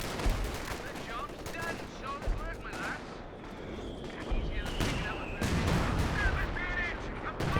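Gunfire and artillery from the World War II strategy game Company of Heroes 2, with an anti-tank gun firing on supply caches: dense overlapping shots, bursts and blasts throughout, with a commentator talking over the battle.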